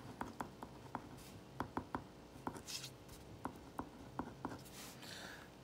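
Pen or marker strokes on paper while sketching a rod-shaped bacillus bacterial cell, a steady run of short, close taps and scratches at an even rhythm, with occasional longer swishes.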